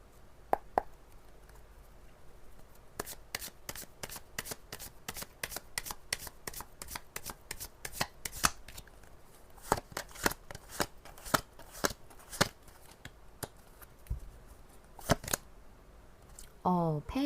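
Tarot cards being shuffled, a quick run of crisp riffling snaps and flicks near the microphone over a quiet background, with brief pauses and a short burst of voice at the end.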